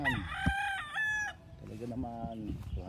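Rooster crowing repeatedly on a Philippine gamecock farm, several loud close crows in the first second and a second bird answering further off, with other fowl calls and faint voices in the background.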